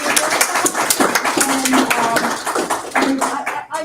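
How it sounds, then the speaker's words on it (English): Audience at a literary festival applauding together, a dense, steady patter of many hands clapping for several seconds, fairly loud and close, tapering near the end. "give yourselves a round of applause for participating in this"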